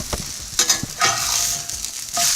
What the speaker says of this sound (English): I can hear the frying pan getting warm